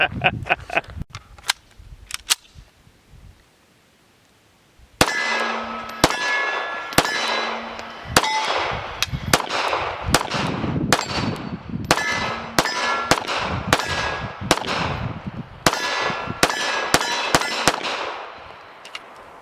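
Rapid pistol shots from an Arex Rex Zero 1 S 9mm, loud and sharp, fired in quick irregular strings with a few single shots early, then a dense run of repeated reports with ringing metallic clangs.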